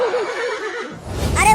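A cartoon horse gives a loud, wavering whinny at close range, followed by a brief rougher snort-like burst.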